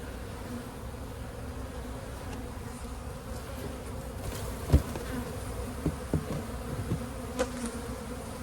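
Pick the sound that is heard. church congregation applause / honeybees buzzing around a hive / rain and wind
honeybees buzzing around a hive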